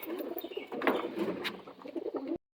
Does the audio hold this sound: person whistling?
no